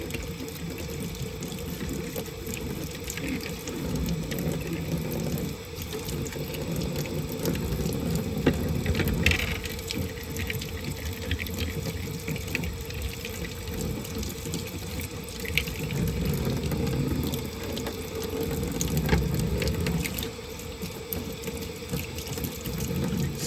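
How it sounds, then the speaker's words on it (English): Running tap water rinses fan parts in a sink, a steady, loud rushing and splashing that continues throughout with slight shifts as the parts move under the stream, no talking. "now we're gonna go ahead and give this a final rinse"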